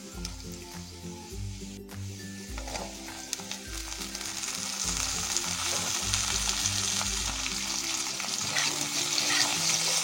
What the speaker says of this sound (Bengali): এখন এই করলা ভাজার মধ্যে দিয়ে দেব সজনের ডাঁটাগুলো। একসাথেই ভাজবো আমি